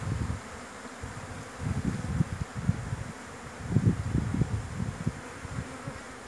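Honey bees buzz steadily and close during a hive transfer from a Langstroth box to a Perone hive, with smoke in use; a dense droning hum pulses in waves throughout, with no talk.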